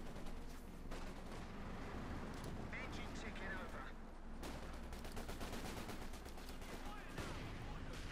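Bren guns and Sturmgewehr assault rifles trade fire in the World War II strategy game Company of Heroes 2, with rapid crackling bursts and distant booms running continuously beneath a commentator's voice.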